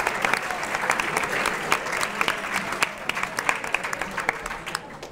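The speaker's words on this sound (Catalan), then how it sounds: "Aplaudiment per aquests 125 punts." A studio audience applauds for a team's score during a televised Catalan school quiz show, steady dense clapping lasting throughout at moderate level.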